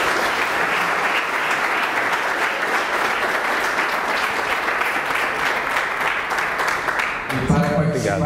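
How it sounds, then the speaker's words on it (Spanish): Steady, loud round of applause from an audience at a Bible lecture and conference, sustained clapping throughout that ends abruptly as a voice begins speaking. "Salva de palmas."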